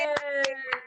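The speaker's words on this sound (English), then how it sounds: "Give Ahmed a round of applause" Participants in an online quiz clap for the winner over a video call: three sharp, evenly spaced claps ring out against a steady sustained tone, close and fairly loud.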